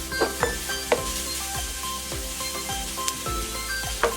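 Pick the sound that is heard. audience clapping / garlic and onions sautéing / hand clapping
garlic and onions sautéing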